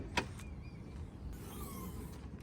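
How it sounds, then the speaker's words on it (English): Tailgate on a BMW 1 Series F20 hatchback opening, with a sharp click of the latch followed by a soft whirring mechanical movement, close and quiet with no speech. "go ahead and open your boot"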